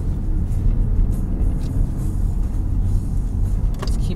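A car drives through a gated residential neighborhood in Las Vegas with a steady low engine and road rumble, heard from inside the vehicle, continuous and fairly loud with no talking.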